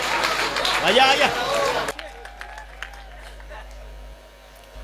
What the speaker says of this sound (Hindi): तालियां हो जाए आपको।